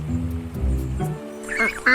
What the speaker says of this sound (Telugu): అప్పుడే బాతు యొక్క గుంపొచ్చింది